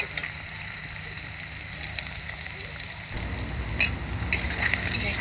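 Paneer fries in hot oil in a home kitchen as part of a vegetarian paneer dish, giving a steady close sizzle that grows thicker and louder midway, with occasional sharper spits and stirring clatter.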